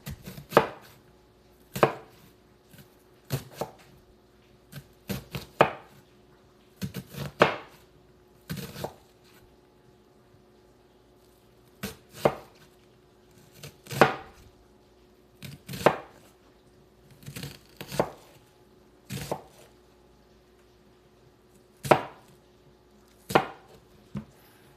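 Onion being finely chopped with a knife on a board, sharp close knocks in quick bursts separated by short pauses, repeated over and over with no other sound.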